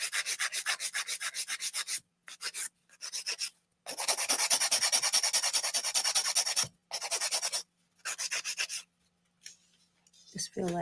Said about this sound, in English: Keep your filing straight, 90 degrees.